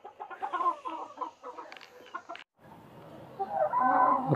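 Australorp and desi hens squabble with busy, close clucking and sharp calls, then a brief gap before a denser, louder chorus of clucks rises again.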